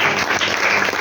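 Brief burst of dense applause from a school audience at Lokmangal High School, Nagewadi, loud and steady throughout with no talk over it.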